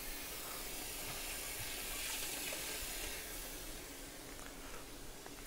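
Tap water pouring steadily into a pot for pasta in a kitchen, a continuous hissing rush with no speech, holding even loudness throughout.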